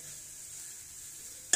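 Masala for an egg gravy sautés in oil, giving a steady, gentle hiss that keeps on, until a sudden bright clatter at the very end.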